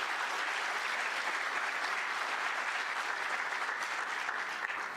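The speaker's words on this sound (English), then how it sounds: "Let's give her another round of applause." A conference audience applauds continuously, a dense steady wash of clapping that holds evenly throughout with no voices over it.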